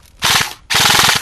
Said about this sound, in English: is my gun shooting?